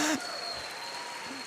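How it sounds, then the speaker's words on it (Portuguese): A church congregation applauding the women during a sermon: a brief, steady wash of many hands clapping at moderate level, following a short burst of the preacher's voice. "vamos aplaudir as mulheres."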